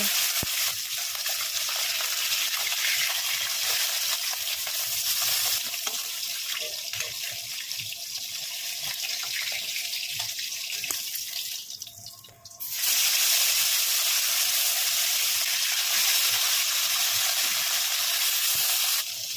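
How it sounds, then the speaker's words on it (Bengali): Koi fish frying one by one in hot oil in a wok make a continuous bright hiss that fluctuates, dips briefly near the middle, then surges louder and steadier for the remainder. "কড়াইতে তেল গরম করে একে একে মাছগুলো সব ভেজে নেব"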